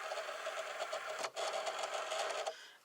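An electronic cutting machine slices cardstock for a hot air balloon birthday card, giving a steady close mechanical whir and buzz with a brief dip partway through before it winds down. No one speaks.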